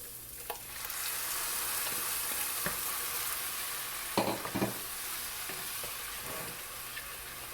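Puree made from three tomatoes hits a hot frying pan with a steady, close sizzle, broken by a few scraping stirs and clinks of a utensil partway through.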